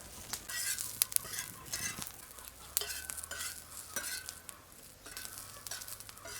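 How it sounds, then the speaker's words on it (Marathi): Green chillies fry in oil for a spicy chicken bhaji, a light crackling sizzle with sharp spatula taps and scrapes scattered throughout at close range. "मिरच्या घेतो भुजून तेल टाकतोय"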